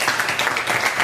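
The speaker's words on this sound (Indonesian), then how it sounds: "Tepuk tangan lagi buat kita." A classroom group in a teacher-training session claps together, a brief dense burst of applause that carries steadily from start to end.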